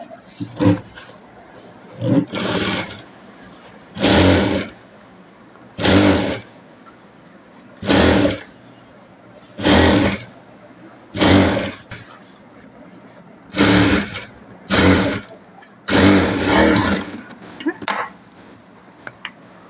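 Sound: sewing machine stitching piping on blouse neckline

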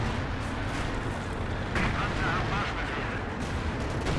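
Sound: artillery fire in Company of Heroes 2 video game

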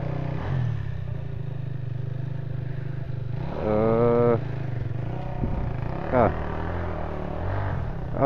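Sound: motorcycle engine passing

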